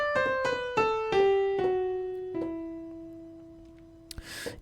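Descending melodic minor scale played as a run of plucked notes stepping downward, the last note left ringing and fading, ending with a brief noisy burst, close with no talking.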